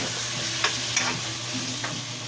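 Chicken tinola is stirred in a pot on the stove, the spoon scraping in a few short strokes over a constant close sizzle and bubble of cooking.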